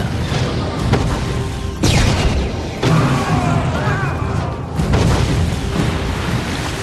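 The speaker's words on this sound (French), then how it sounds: "La corvette riposte à coups de grenades sous-marines." Heavy booming blasts from depth charges dropped by a World War II corvette in the Battle of the St. Lawrence, with several deep thuds and rumbling surges that swell and fade over a dense, noisy background.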